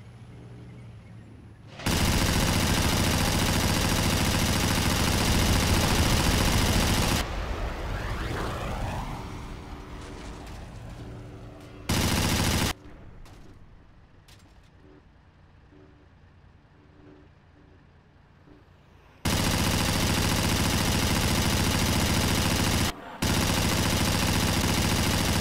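Anti-aircraft gun firing in Battlefield 1942, long loud sustained bursts of rapid fire with engine rumble and quieter gaps between them.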